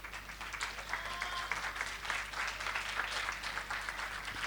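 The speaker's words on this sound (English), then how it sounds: "A round of applause, please." An audience at the 2022 Phenomenal Women Awards applauds standing award recipients, a dense, steady wash of many hands clapping throughout, fairly loud and even, with no voices over it.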